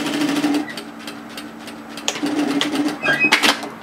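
A sewing machine stitches a hem on a knit tee in short bursts, its rapid mechanical whir stopping and restarting with small clicks and handling noise between runs.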